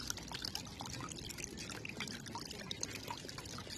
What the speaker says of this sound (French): Fontaine à eau, important.